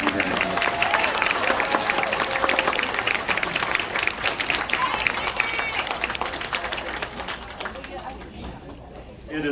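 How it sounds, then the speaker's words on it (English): An audience at the Harmony Science Academy graduation ceremony applauds its graduates with loud, sustained clapping mixed with cheers and voices. The applause thins and fades away near the end. "Please give another round of applause for all of our fine graduates."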